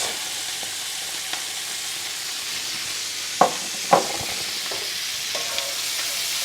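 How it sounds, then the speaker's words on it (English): Brussels sprouts pan-sear in hot oil with a loud, steady, close sizzle, and two sharp clacks of a utensil against the pan are heard near the middle; no one speaks. "we basically are pan searing these"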